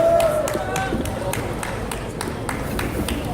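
A crowd at a Taegukgi patriotic rally in Daegu claps in a steady, evenly spaced rhythm. The claps sound moderately distant and sit over a continuous wash of crowd noise.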